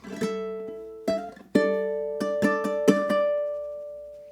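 A ukulele plays the closing measure of a song: three strums, a quick run of plucked and slid chords, then a final chord left to ring and fade, close and solo.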